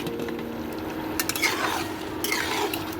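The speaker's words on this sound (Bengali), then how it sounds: "ঢাকনাটা আমি খুলে দেখে নিচ্ছি।" A lid comes off a pot of ridge gourd and potato simmering with poppy seed paste, with faint clinks of metal and a soft bubbling sizzle running steadily underneath, close by.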